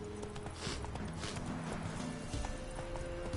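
Roach the horse trots in The Witcher 3, with hoof clip-clops coming in a quick steady rhythm, partly blended with game music and background ambience.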